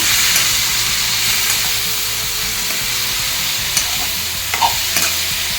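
Cabbage, beans and carrot stir-fry being mixed in a hot pan, a continuous close sizzle with steady scraping and stirring strokes, a few sharper clinks near the end, no speech.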